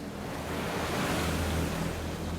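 Ocean waves roar nearby in a loud, continuous wash of surf with a low rumble and a little wind noise. There are no voices.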